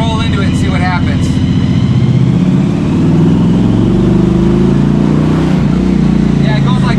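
A supercharged Tide car engine holds a steady light-throttle cruise around 2000 RPM, a continuous low rumble running loud throughout, with voices talking over it.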